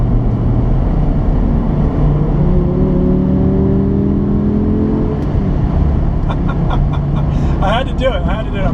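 A Dodge Viper ACR track car accelerates past, its engine note rising steadily under loud road and wind roar, while someone talks over it near the end.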